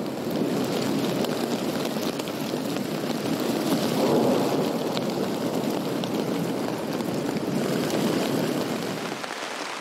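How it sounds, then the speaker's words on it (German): Heavy rain lashes down with strong gusting wind in the mountains at Mestia, Georgia, a dense, loud, continuous roar that swells slightly in the middle, with no voices. "hier ist es voll am Schütten. Und der Wind geht ganz krass."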